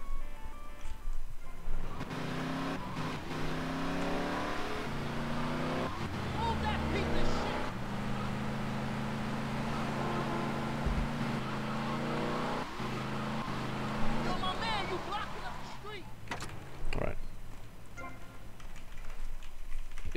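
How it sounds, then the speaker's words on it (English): A car driven through the streets of the video game GTA: Vice City, its engine droning steadily with repeated rises in pitch as it accelerates and shifts, mixed with other game sounds and a voice talking over it. "then we'll drive off to Boatyard"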